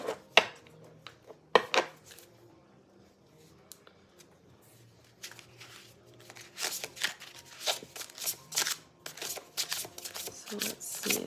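New tarot cards being shuffled by hand, soft riffling and slapping that starts sparse and grows into dense, louder bursts of shuffling toward the end, with no voices.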